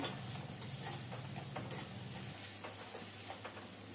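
Onions with salt cooking in a pan for Maharashtrian jhunka, a steady close sizzle with faint scraping stir sounds and a low hum underneath, no talking.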